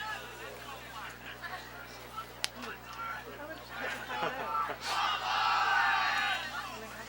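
An ultimate frisbee team cheers together after a men's final, starting as scattered crowd chatter and building to a loud, sustained group shout over the last couple of seconds.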